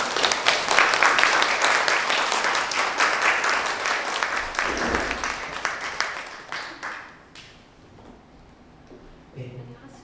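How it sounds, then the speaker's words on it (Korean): Audience applause at a talk event welcoming a Palestinian guest and interpreter, a dense, loud burst of clapping that gradually thins and fades to scattered claps. "큰 박수로 맞이해 주십시오."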